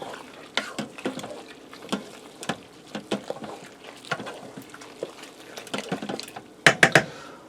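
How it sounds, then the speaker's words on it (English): Pasta and water stirred in a pressure cooker, giving a series of wet scraping, sloshing and clinking strokes at an irregular pace, close by, ending in a few sharper knocks against the pot. "I'm going to give this a stir because there's still some water down there"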